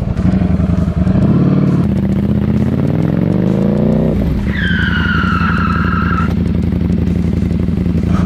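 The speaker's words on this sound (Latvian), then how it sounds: "uzreiz riepa bloķējās un slīd" A motorcycle's rear tire locks and skids under hard braking with the rear ABS switched off, a loud continuous engine and tire roar with a rising squeal, then a sharp higher-pitched screech near the end.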